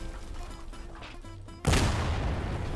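Cannon fire in Garry's Mod, heard as a sudden loud boom about halfway through that lingers as a broad roaring rumble, following a quieter stretch of game ambience with faint repeating tones.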